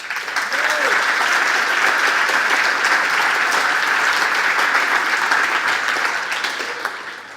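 An audience at a brewery talk on beer label design breaks into sustained, loud applause that holds steady before tapering off at the end, with a voice briefly heard near the start.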